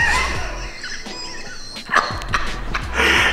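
A Cane Corso during high-value treat training gives short whimpers, yips and soft barks scattered through the moment, with shuffling and movement noise nearby.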